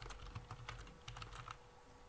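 Fingers tap out a short message on a computer keyboard, a quick run of light, soft keystrokes at a steady pace, fairly faint against a low background hum.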